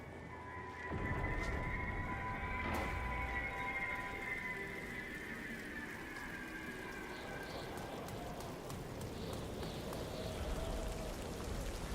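Steady rain-like hiss of the Rain of Magma effect in the Marathon video game, a continuous broadband wash with scattered faint clicks and tones, holding at an even level with no talk.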